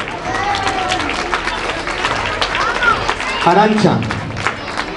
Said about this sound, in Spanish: un aplauso para esta artistaza de Almería